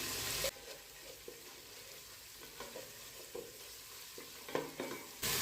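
Ginger and garlic with turmeric sautéing in oil, a quiet steady sizzle broken by repeated scraping stir strokes in the pan, no speech.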